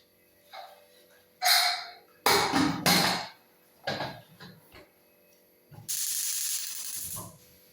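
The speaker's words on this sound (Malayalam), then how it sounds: "നമുക്കിനി കുക്കർ അടച്ച് സ്റ്റൗവിലേക്ക് വെക്കാം" A pressure cooker lid is fitted and closed with a series of metallic clanks, scrapes and ratcheting clicks, close by and in separate bursts.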